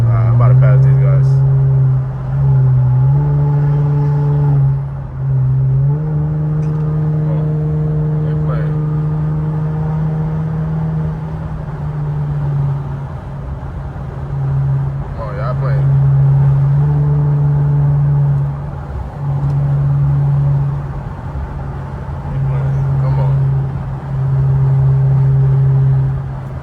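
A loud twin-turbo Infiniti Q50 drones steadily while driving on roads in upstate New York, its engine note rising and dipping with shifts in throttle, heard close from inside the car throughout.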